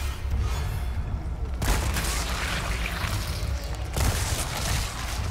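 A creature explodes in Resident Evil 4 Remake with a sudden broad booming burst, followed by a second blast a few seconds later amid a rumbling, noisy game backdrop.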